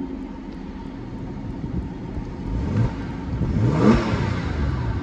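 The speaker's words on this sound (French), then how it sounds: "Et qui nous garde évidemment la sonorité du flat 6." A Porsche 997 Carrera 4 Cabriolet's flat-six engine revs up twice, each rising whine sweeping higher and louder before easing back. The engine is close and loud and is heard alone.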